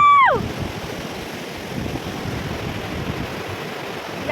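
A river rushing beneath a bridge among hills in Arunachal Pradesh makes a steady, loud broadband roar that holds evenly throughout, opened by a brief falling tone in the first half second.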